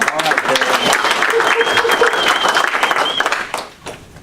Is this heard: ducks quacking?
no